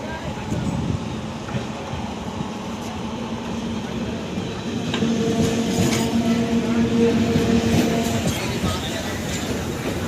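EMU 04437, an electric multiple unit train, rumbles past nearby with rhythmic wheel clatter that swells midway, a faint squeal riding over the steady roar.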